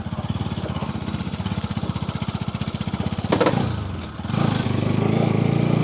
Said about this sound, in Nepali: मेरो बाइकले तानेन कडा कडा कडा गरे है